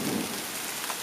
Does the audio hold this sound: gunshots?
no